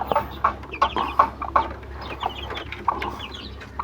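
Several hens cluck in quick, repeated bursts close by, with a low steady hum in the background.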